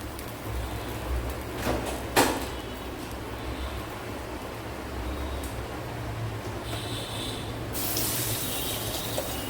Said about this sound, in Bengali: আমি এর মধ্যে দিয়ে দেবো পরিমাণ মতন জল। আমি আরেকটুখানি জল দেবো।